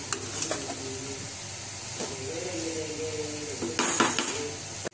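Hot jaggery laddu mixture stirred in a pan, steady sizzling hiss with scraping strokes of a spoon and a few metallic taps toward the end, no voices.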